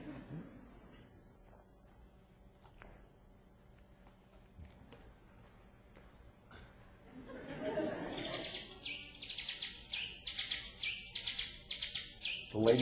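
Bat courtship song playing after a stretch of low background, a rapid series of high chirping syllables that builds into a dense, pulsing trill, fairly loud toward the end.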